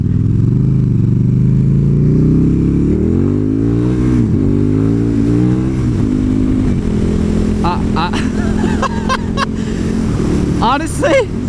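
Loud KTM Super Duke 1290 engine on a first ride, rising and falling through repeated revs and gear changes with a steady roar throughout, plus a few sharp clatters near the end.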